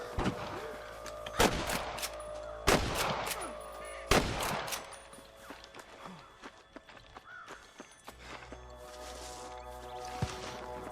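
Gunfire in the Western video game Red Dead Redemption: several sharp, loud shots in quick succession early on, then scattered fainter cracks amid a busy in-game mix of hoofbeats and movement.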